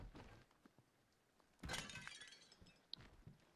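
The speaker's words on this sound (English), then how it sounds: "Smashed a pot, it vanished." A clay pot smashed in the Amnesia custom story The Great Work: one sudden crash midway, followed by a short scatter of tinkling fragments, all fairly faint against quiet surroundings.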